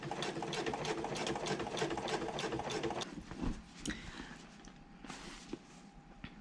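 A sewing machine topstitches a handbag pocket with a fast, close, rhythmic mechanical chatter for about three seconds, then stops, leaving light handling noises of the bag being moved.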